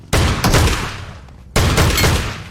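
Heavy video-game gunfire in two loud bursts, the first starting just after the beginning and the second after about a second and a half, each a dense rattling volley that fades slightly before the next, with no talking.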